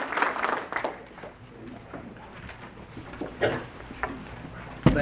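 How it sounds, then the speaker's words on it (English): Modest clapping from a small audience at a San Gabriel Valley realtors' gathering, welcoming a guest speaker; a few seconds of uneven applause that fades into room sounds, with a sharp knock near the end. "let's give a round of applause for Ray"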